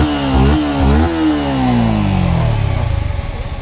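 A Yamaha MT 150cc six-gear motorcycle with about 6,700 km on it revs up loudly and close, the pitch climbing, then settles back into a smooth, steady idle.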